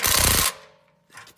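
An impact gun hammers exhaust manifold bolts on a 2009 Chevy 2500HD 6.0L in one loud, close half-second burst, then a faint clatter follows.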